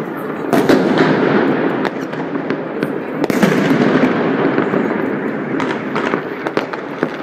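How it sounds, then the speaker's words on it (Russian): Sharp New Year firecracker bangs pop several times at irregular intervals near a stairwell, loud and close, with a crackling hiss and echo trailing between blasts. "Это была петарда."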